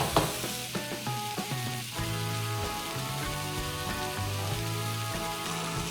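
Vegetables tossed in a wok with chili sauce for Indo-Chinese vegetable Hakka noodles give off a steady loud sizzle, with sharp clatter at the start, as the wok is tossed and stirred.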